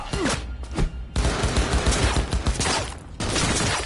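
Rapid covering gunfire in Cyberpunk 2077 rattles out in loud, close bursts of overlapping shots, broken by brief pauses amid battlefield noise.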